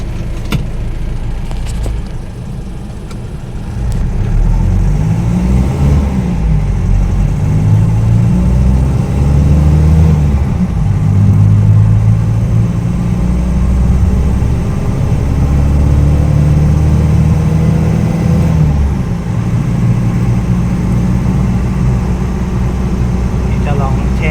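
A car's engine drones steadily on the road while driving, its hum rising as the car picks up speed and then holding at a constant cruising tone.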